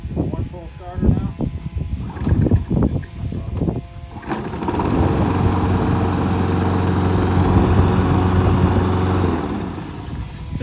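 A roadside-salvaged lawn mower is pull-started with a burst of rattling cord pulls amid speech, then the engine catches and runs loud and steady for several seconds before cutting out.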